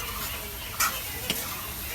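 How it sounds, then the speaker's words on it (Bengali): Taro stems fry with small fish in a pan, a steady close sizzle with a couple of brief clinks of stirring, and no voices. "কচুর ডাইগা ভাজি রে, ফুটকি মাছ দিয়া"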